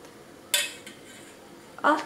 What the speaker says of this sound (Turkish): O kefleri ben şöyle bir kaşık yardımıyla alıyorum.